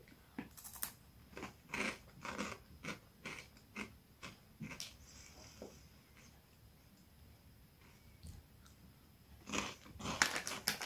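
Crunchy cheese-flavored American snack being bitten and chewed close up, a run of sharp crisp crunches in a steady rhythm, then a quieter pause before a louder burst of crunching near the end, with no talk.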